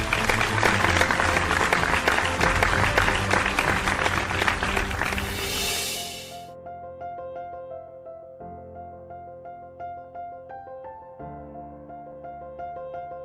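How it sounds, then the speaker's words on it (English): An audience at a Great Mid-size Workplaces 2020 award ceremony applauds winner Vuram with sustained, dense clapping for about six seconds, then the clapping fades out and gives way to music. "Please join me in giving a huge round of applause to Vuram"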